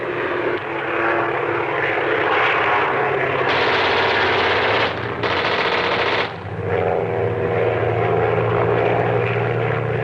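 A propeller airplane flies in a loud, steady engine drone from an old feature film soundtrack, with a rattling, gunfire-like burst partway through.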